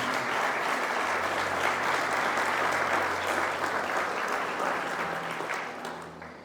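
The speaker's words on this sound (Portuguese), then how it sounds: "Você pode aplaudir o nosso Deus." A church congregation claps together in a sustained, even burst of applause that tapers off toward the end, heard from within the room.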